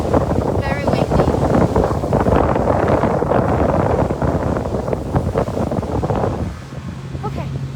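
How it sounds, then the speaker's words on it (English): Loud wind buffeting the microphone, rumbling steadily throughout with a voice talking under it, easing slightly near the end. "It's just very, very windy."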